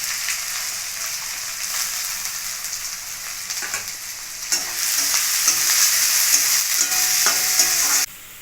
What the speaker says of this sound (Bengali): পেঁয়াজ আদাগুলো আমার ভেজে না হয়ে গেছে।